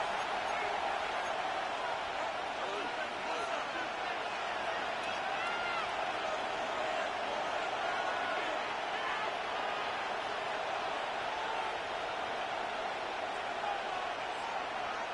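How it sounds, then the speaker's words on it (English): Crowd noise fills a football stadium late in the fourth quarter of a close game, a steady, dense roar of cheering and babble that stays at an even level throughout with no lulls. "Crowd on their feet."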